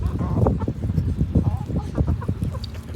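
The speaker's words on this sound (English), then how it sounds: "That chicken right there is a Rhode Island blue." Several chickens, among them a Rhode Island Blue, a Cochin and a Silkie, cluck and chatter close by in a steady, overlapping stream of short calls.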